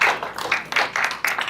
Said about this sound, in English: round of applause for our winner.